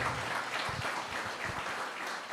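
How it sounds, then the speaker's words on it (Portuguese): Congregation applause in a church service, a steady, fairly faint wash of clapping from many hands throughout. "dá um aplauso ao Senhor"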